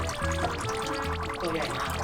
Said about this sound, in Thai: เดี๋ยวเราจะเทน้ำที่เขาให้ออกมา